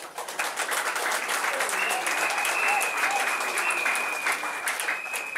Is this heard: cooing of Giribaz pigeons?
no